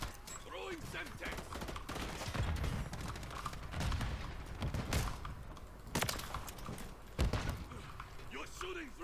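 Shotgun blasts ring out in Call of Duty: Modern Warfare 3, coming as several booming shots spaced across the stretch over game noise and background voices.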